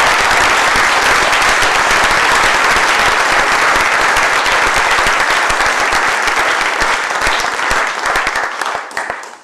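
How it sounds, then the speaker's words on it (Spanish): A large audience gives loud, sustained applause, a dense wash of clapping that holds steady for several seconds before starting to thin and fade at the end. "Démosles, por favor, un fuerte aplauso."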